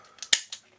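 A single sharp metallic click as the hammer of a Sig Sauer 1911 .22LR pistol strikes a plastic snap cap, with fainter small clicks just before and after.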